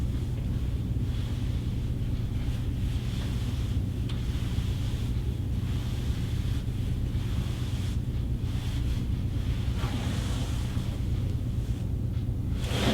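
Sea waves and wind, a constant low roar of surf under buffeting wind rumbling across the microphone, steady and moderately quiet throughout with no voices.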